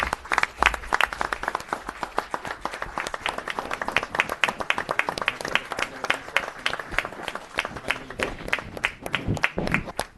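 Steady applause from a small crowd at a town board meeting, many hands clapping at a brisk, uneven rhythm for about ten seconds at moderate volume indoors.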